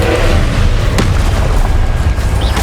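Confringo explosive spell blast in Hogwarts Legacy, a deep booming burst with a sharp crack near the start, followed by a rumbling low-end tail.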